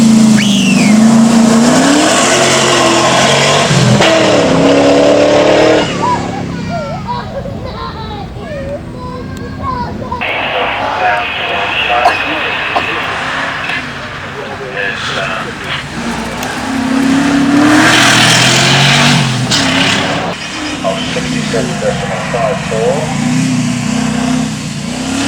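A TVR V8S sports car revs hard on the start line at a speed hillclimb, then launches away with screeching tyres and rising engine howl that fades with distance, while someone talks over it.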